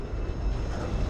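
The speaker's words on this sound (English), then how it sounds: "Look at that train in there." A train rumbles steadily in the distance, a low continuous roar with no voices over it.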